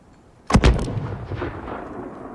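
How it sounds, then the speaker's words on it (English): A mortar round fires in the Call of Duty: Modern Warfare PC campaign, one sharp, loud boom at close range followed by a long rumbling decay that fades out over the next two seconds. "There's still a mortar out there."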